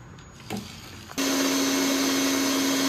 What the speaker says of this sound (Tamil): இப்போ தேங்காவை நம்ம அரைச்சிக்கலாம்